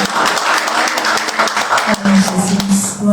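A church congregation claps during a worship service, a loose burst of hand clapping mixed with voices, and a sustained sung or spoken tone rising over the claps toward the end.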